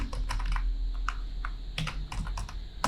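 Keys on a computer keyboard clack in short, irregular bursts while a command is entered in a Raspberry Pi terminal. The clicks are close and crisp against a steady low hum.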